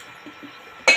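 A cooking pot gives a single bright metallic clink as it is picked up for making beetroot puris, coming sharply at the very end of an otherwise quiet kitchen moment.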